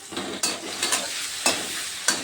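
Spices stirred into hot oil with frying cumin in a pan, giving a steady sizzle broken by several sharp scraping stir strokes, close and fairly quiet, with no talking.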